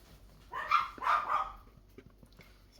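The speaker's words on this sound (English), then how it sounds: "Sorry about the dogs." Dogs barking indoors while a cook prepares a pistachio dessert, two or three short barks close together, moderately distant and fairly soft over a quiet room.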